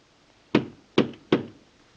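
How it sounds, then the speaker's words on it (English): Three sharp knocks on wood, close and distinct, the second and third coming quicker, with no talk over them, in an early sound comedy film from 1930. "Knock on wood."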